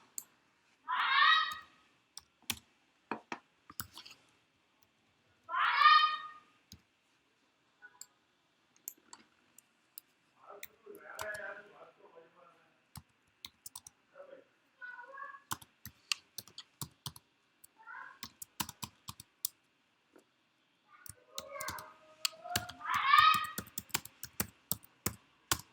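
Keyboard typing on a computer while making a pencil graphic in Photoshop: scattered bursts of clicky keystrokes in short irregular runs, close and moderately loud, broken by a few brief breathy sounds.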